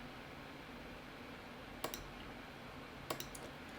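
Two sharp, faint clicks of a computer mouse while editing in a DokuWiki page, spaced over a second apart against a quiet hiss of room noise, with no voices.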